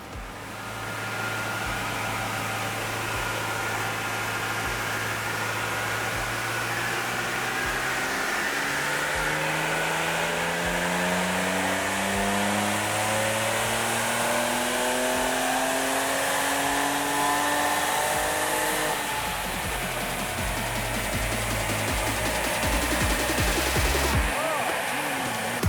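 A Ford Raptor engine with an aftermarket mid-pipe revs on a dyno, a loud sustained roar climbing steadily through the rev range with rising tones, close and continuous, with talk partly beneath it.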